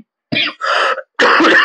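A person with a cold clears the throat and coughs, three short, loud, close bursts in quick succession.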